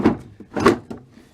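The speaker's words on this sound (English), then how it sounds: "As you can tell, my drawer slides are well lubricated." A toolbox drawer on lubricated slides moves out and back in twice, short smooth rumbles with soft knocks, close by and without speech.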